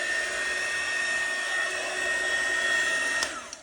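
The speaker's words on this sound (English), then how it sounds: "the heat gun push." A heat gun blows over epoxy resin with a steady, close, even whoosh and a faint high whine, holding constant for a few seconds before dipping at the end.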